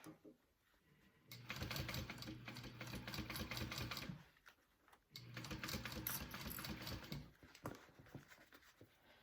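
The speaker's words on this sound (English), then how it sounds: "I really want to make sure that I'm sewing it evenly along the zipper" A sewing machine stitching along a zipper on a fabric bowler bag runs in two sustained, loud, close bursts of rapid mechanical chatter separated by a brief pause.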